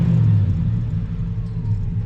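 A square body truck's engine runs steadily right after starting, a deep, loud rumbling idle close by with no talking over it.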